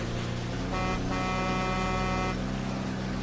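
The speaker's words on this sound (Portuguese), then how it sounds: "A buzina desse carro que parece buzina de caminhão, né?" A long, loud horn blast from a car in the video game State of Decay 2, with a deep, truck-like tone, sounding steadily for a few seconds.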